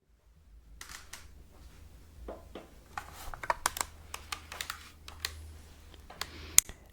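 Soft clicks of keys being typed on a small computer keyboard, starting slowly then quickening into an irregular patter, quiet and close with no voices.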